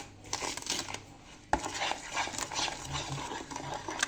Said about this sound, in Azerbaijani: Şimdi qarışdırırıq.